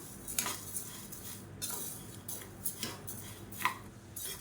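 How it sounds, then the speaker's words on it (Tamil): Moong dal, chana dal and toor dal dry-roasting in a pan for idli podi give soft, intermittent scraping and metallic clinks as a spoon stirs them, quiet and close, with no talking. "இது எல்லாத்தையுமே நல்லா செவக்க வறுத்துக்கலாம்"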